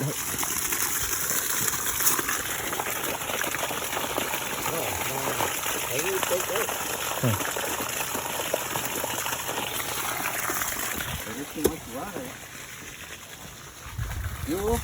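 Water gushing steadily from a pipe while a main water valve is replaced in a home, a constant close rushing hiss that runs the whole time under occasional nearby talk, easing slightly near the end.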